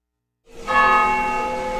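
A deep church bell rings out after a moment of silence, its loud, sustained tone humming and slowly fading.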